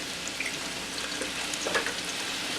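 Eggs cracked into a pan of Brussels sprout hash fry with a steady, close sizzle and crackle, a few sharper pops rising over the hiss, with no talking.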